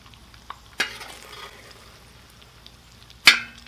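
Chorizo sizzles on a plow-disc discada as it is pushed aside. Two sharp scraping strokes of a utensil on the metal stand over a soft, steady frying hiss.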